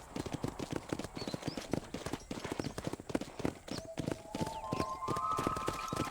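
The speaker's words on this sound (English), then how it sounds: "Control that horse" Horse hooves clip-clopping in Red Dead Redemption, a steady rapid rhythm of close, crisp hoofbeats, with a brief tonal game sound near the end.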